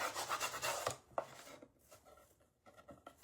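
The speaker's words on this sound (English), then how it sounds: "you just lay it back down and keep on burnishing" A rub-on transfer is burnished by hand at close range, a dry scraping rub in quick repeated strokes that thins out into softer, scattered scuffs.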